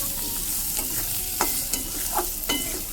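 Potatoes stir-fried in a spicy masala for a thin Bengali tangra fish and potato curry, a steady oily sizzle broken by a few scraping stirs of the spatula, close and with no talk.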